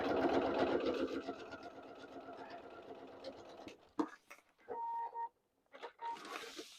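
A sewing machine runs a basting stitch along faux leather pants, whirring steadily for a few seconds before stopping, followed by short bursts of stitching and a couple of beeps, with a voice talking over parts of it.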